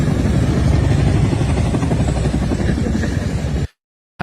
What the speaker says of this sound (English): How close those helicopters are to you.